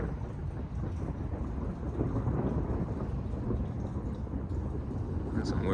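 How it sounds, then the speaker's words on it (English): Deep rolling thunder during a lightning storm in Houston, a continuous low rumble with a constant wash of rain, sustained and heavy throughout. "That's some weird thunder"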